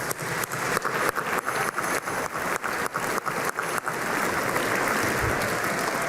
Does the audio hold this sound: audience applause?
yes